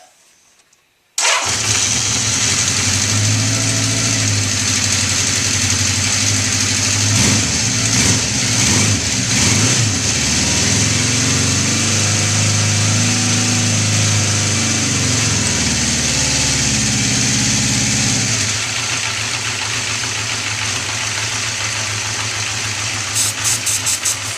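A 1981 Honda CB650 motorcycle engine with a carb boot fault, started cold on choke, runs steadily and loud at close range for over twenty seconds, with a fast idle that wavers partway through.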